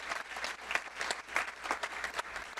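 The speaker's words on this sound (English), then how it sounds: "So a round of applause for them." Audience applause fills a town hall meeting, steady scattered clapping from a crowd at moderate distance, brief and uninterrupted by talk.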